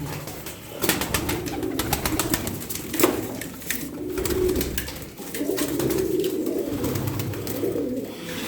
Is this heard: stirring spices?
no